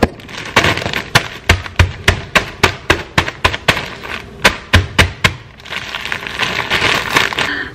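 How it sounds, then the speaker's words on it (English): A bottle smashes cookies inside a bag: a rapid series of sharp, loud whacks, about fifteen, falling in a quick, steady rhythm, each with a crunching, crackling edge, then a rustling hiss. "So I slammed on the bag with this bottle and I broke up in the bag"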